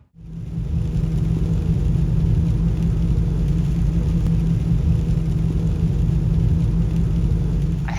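A van driving along a highway, heard from inside as a steady loud low rumble of engine and road noise with a constant hum, unbroken for the whole stretch.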